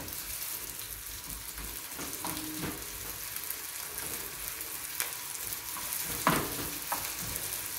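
Finely diced onion sautéing in a pan, a soft continuous sizzle with scattered scrapes and taps of stirring, one knock standing out near the end.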